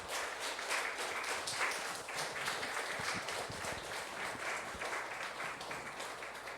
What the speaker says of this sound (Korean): Let's give a big round of applause to true parents